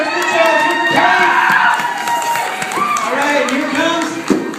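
A crowd of children and adults cheers and shouts loudly for a young racer at a kids' race event, with sustained whoops and a few claps running throughout.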